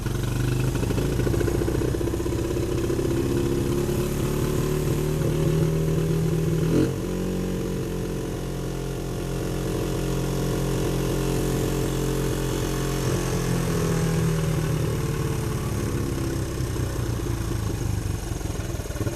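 Suzuki LT125 quad engine idling steadily at close range, a constant mid-pitched putter with a slight wavering in speed and one small bump partway through.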